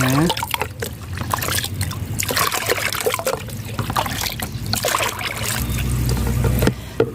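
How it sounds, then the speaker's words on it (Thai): About ten litres of plain water pours into a fertilizer mixture for feeding plants, making a continuous splashing and trickling that swells louder toward the end. A voice speaks over the pouring. "จากนั้นก็เติมน้ำเปล่าสิบลิตรนะคะ"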